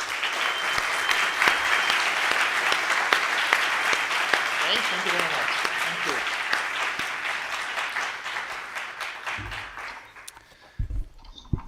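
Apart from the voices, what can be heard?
audience applause for the last conference speaker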